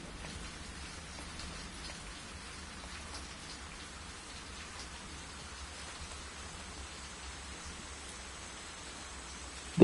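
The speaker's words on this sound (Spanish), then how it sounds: "De noche, lloviendo," Steady night rain falls in the video game Season: A Letter to the Future, a soft, even hiss of drops on surfaces continuing quietly and evenly throughout with no voices.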